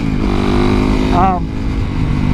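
A SuperMoto motorcycle on Warp 9 wheels roars close and loud, its engine holding a steady drone with a brief rise in pitch as it rides through corners.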